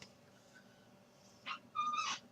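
A kitten gives two short, high meows near the end, close and fairly clear against a quiet room background, with no talking.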